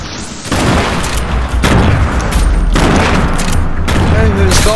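Loud, dense explosions and rapid gunfire fill a Fortnite-style battle royale match. Booming blasts and bursts of shots overlap continuously at close range, while a player speaks over them.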